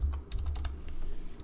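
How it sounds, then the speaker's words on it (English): Brief, close tapping of keys on a computer keyboard, a quick run of a few keystrokes followed by softer clicks. "I can just type in,"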